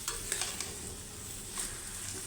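Black rice being stirred as it fries in a pan, a steady low sizzle with a few soft scraping knocks of the spoon, close and alone with no talk.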